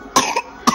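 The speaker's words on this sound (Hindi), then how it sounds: "खांसी लग रही मेरी बेटी को" A young girl coughs twice in quick succession, close and loud, with a short gap between bursts.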